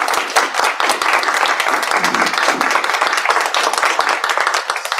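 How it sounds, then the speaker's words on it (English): An audience at a conference on access to justice and gender equality gives a loud round of applause after a statement, dense and steady clapping close by that holds for the whole stretch. "I thank Fatima for her statement, and a round of applause for Fatima."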